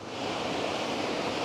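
A river's water flows steadily in a continuous broadband rush close by, with no voices over it during the short stretch.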